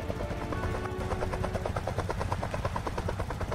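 Helicopter in the Roblox game Rainbow Friends, a loud steady rotor thump and engine drone running throughout with a rapid rhythmic chop, no speech.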